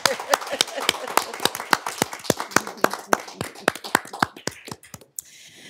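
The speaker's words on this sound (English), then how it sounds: "I feel like we need to give you a round of applause" Applause at a school board meeting, a small group clapping in sharp, uneven individual claps that thin out and stop near the end, close and distinct.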